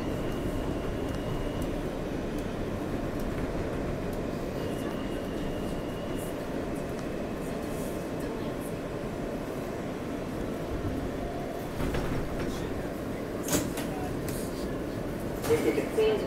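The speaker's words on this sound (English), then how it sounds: "This is a Queensbound F local train." Steady low rumble of a Queens-bound F local subway train, an R160 car in New York City, in motion, constant and fairly loud, with occasional rattles and clanks near the end.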